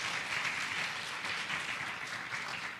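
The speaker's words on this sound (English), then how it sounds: "So big round of applause" Quiet, even applause from an audience at a housing policy meeting fills the room as a soft continuous wash of many clapping hands, slightly distant and steady throughout.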